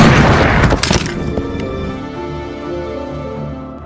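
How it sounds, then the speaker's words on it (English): A gunshot in a movie hits as a loud booming blast at the start, followed by a short crackling shatter and a long decaying ring. "Jack suddenly came and shot Carl"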